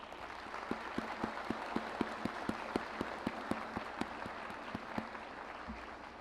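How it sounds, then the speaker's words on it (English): Commencement audience at Palo Alto giving applause, a thin, moderately distant patter of scattered individual claps with a few sharper ones standing out, fading near the end. "Let's give them a round of applause"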